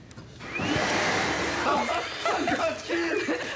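A vacuum cleaner whines steadily at moderate volume, with a few chuckles and voices breaking through over the motor's hum.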